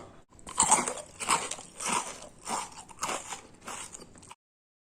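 Several loud, close crunches in a row as a crisp fried salted seedai snack is bitten and chewed, each crackly burst separated by brief pauses, ending abruptly in silence.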